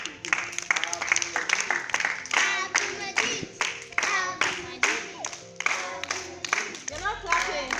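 Schoolchildren clap together for a classmate during a school numeracy week event. The clapping is loud, close and rhythmic, with sharp claps in a steady beat and a low background hum beneath.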